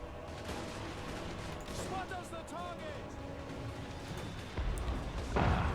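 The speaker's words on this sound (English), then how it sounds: "Musketeers starting to shoot as well" Musketeers firing volleys in a Total War: Warhammer battle, a dense, continuous clatter of gunfire and battle noise, with a heavier burst at the very end.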